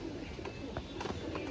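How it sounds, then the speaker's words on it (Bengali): A pigeon, a fine-quality bird with a black tail and red head, coos softly and repeatedly at close range, its low murmurs steady over a faint background hum. "খুব সুন্দর কোয়ালিটির পায়রা,"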